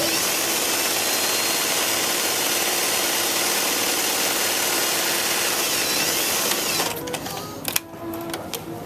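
Sewing machine running steadily as it stitches a half-inch seam on a pillowcase, a fast even mechanical whir at close range that stops near the end, followed by brief handling clatter.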